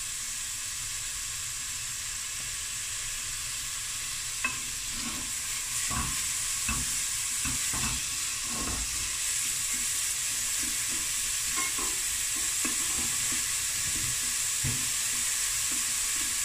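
Minced garlic sweats in a pot as part of a broccoli and cheddar soup, a steady bright sizzle running throughout with occasional soft stirring clicks and scrapes.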